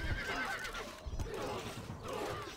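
Horse neighing with clip-clop hooves in the video game Stronghold Crusader: a loud whinny repeating over the steady hoofbeats, with faint game voices in the background.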